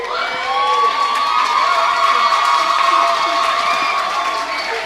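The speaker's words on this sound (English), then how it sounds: "Cheer for your teachers, man. Cheer for your teachers." Students at an annual CSEC lecture cheer for their teachers with loud, sustained crowd cheering and scattered whoops that run unbroken through the whole stretch.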